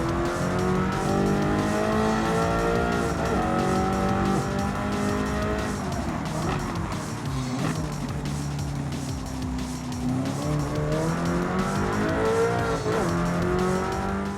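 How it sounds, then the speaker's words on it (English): An Alfa Romeo race car with a custom exhaust in the Gran Turismo racing game roars loudly and continuously, its engine pitch climbing and dropping through gear changes and braking without pause. "you guys can listen to the sounds of this Alpha if I don't crash"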